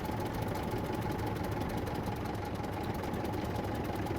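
A tractor engine running while driving in the video game SCUM makes a steady, rapid mechanical chug that stays even and fairly close, with no talk.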